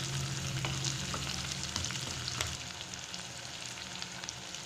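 Cubed onion frying in a pan for a potato curry, a dense steady sizzle close up with faint stirring clicks and no voices.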